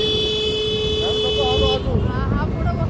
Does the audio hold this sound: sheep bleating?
no